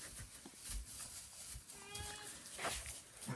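A sheep bleats once, faint and somewhat distant, its wavering call rising over a low background rumble that also carries faint voices.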